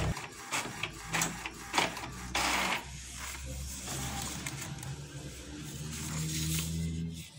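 Printer feeding and printing an Excel sheet on F4 paper, with whirring and mechanical clicks, a few sharp clacks early on, then steady humming motor passes, heard up close with no talking.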